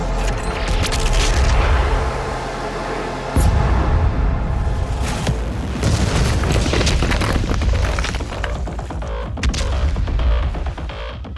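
The Doom Slayer is launched from a big cannon in Doom Eternal, giving loud booming blasts and explosive rumbles with scattered bursts over a dense, sustained roar.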